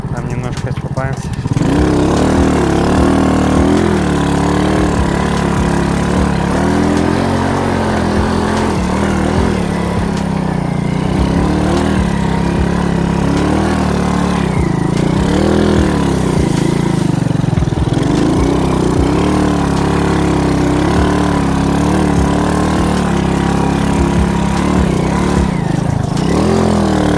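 Alpha moped engine runs steadily and loudly throughout a ride toward a river quarry, with a constant droning hum and small pitch changes as it speeds up and slows, wind rushing over it.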